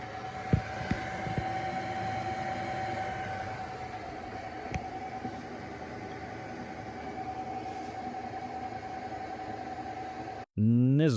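Steady whirring cooling fan of a Segway Lumina 500 (LM-500) portable power station, with a constant hum, running on its own without speech, ending in a brief louder burst of sound.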